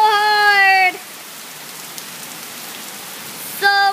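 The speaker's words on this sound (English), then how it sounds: "It's raining so hard." Heavy rain pours down during a close thunderstorm in Stamford, a steady dense hiss filling the middle of the clip, with brief sustained tonal sounds at the start and end.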